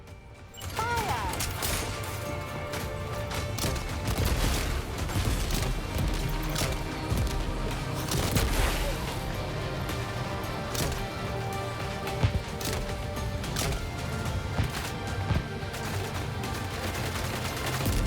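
Dense gunfire from the video game Death Stranding 2 runs continuously, with rapid shots and bursts layered over a steady loud mix of game sound effects and no clear pause.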